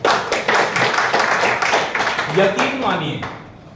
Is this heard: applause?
yes